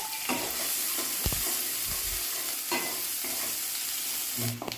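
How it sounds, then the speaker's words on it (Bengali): Two medium onions cut into pieces fry in a pan with a soft, steady sizzle, broken by a few spatula scrapes and knocks, fairly quiet and close, no voices. "দুটো মাঝারি সাইজের পেঁয়াজ এভাবে টুকরো টুকরো করে কেটে নিয়েছি সেটা দিয়ে ভালো করে ভেজে নিচ্ছি"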